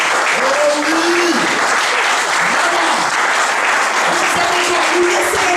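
Congregation at a French-language church sermon applauds in acclaim of the Lord, a steady wash of clapping hands sustained throughout with a faint voice or tone drifting underneath.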